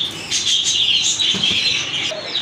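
Pigeons in a farm coop fill the air with a dense, continuous chorus of bright chirps and calls, with soft wing flutters and low murmurs close by and no talking.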